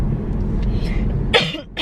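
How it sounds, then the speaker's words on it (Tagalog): A single sharp cough bursts out near the end of a short stretch of low, rumbling background noise, with a muffled voice just after it. "Ay, ubo oy."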